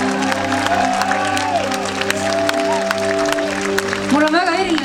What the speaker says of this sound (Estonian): Teeme suure aplausi neile.